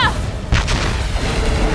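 Weapon firing in the animated show Armored Saurus, a loud booming blast with a sharp attack followed by rumbling, layered over a dense, noisy soundtrack.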